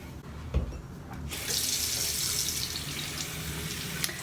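Warm water runs steadily from a bathroom tap into a sink during face washing, a close, even hiss that starts after a short quiet moment and continues alone.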